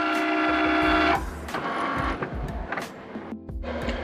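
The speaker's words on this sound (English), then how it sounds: "hit the little Cricut button. And now it's gonna get ready to scan the registration marks" A Cricut cutting machine runs as it scans the registration marks on a mat of holographic sticker sheets, giving a steady close mechanical whir with motor hums and small clicks.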